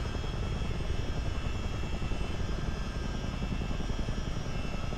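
A CH-47D Chinook helicopter in a multiplayer flight game, its engines and rotors making a loud, constant broadband roar with a faint rhythmic rotor beat throughout, no talking.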